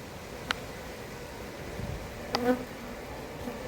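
Honeybees buzz around hives at an apiary, a low steady drone with a few brief sharper passes as insects fly close by.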